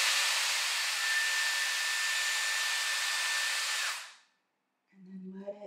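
Dyson Airwrap hair styler blowing a steady, loud rush of air for about four seconds before cutting off, followed by a pause and then someone speaking.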